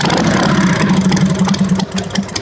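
A Harley-Davidson motorcycle, repaired after a wiring fault, runs steadily after starting, its loud, close idle a low throbbing rumble with slight rhythmic pulsing, heard alone with no talk.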